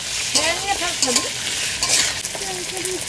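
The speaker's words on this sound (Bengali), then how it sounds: "চিংড়ি মাছটা ভেজে নিচ্ছি।" Prawns frying in an oiled pan make a loud, continuous sizzle close by, broken by brief stirring bursts and scrapes.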